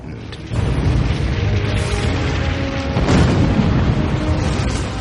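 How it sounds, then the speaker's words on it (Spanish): A deep, continuous roaring rumble of volcanic explosions, swelling heavier partway through with crackling, booming bursts layered in. "Las inmensas explosiones y terremotos volcánicos"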